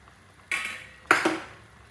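Pots and dishes in a home kitchen clatter twice in quick succession, two sharp metallic knocks with brief ringing, close and alone.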